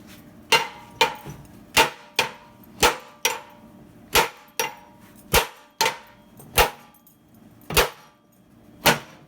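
Hammer smacking a Honda front ball joint during suspension repair, about fourteen sharp metallic strikes in an uneven rhythm, loud and close, with quiet pauses between blows.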